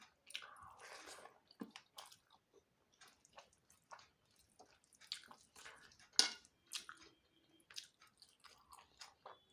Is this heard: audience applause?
no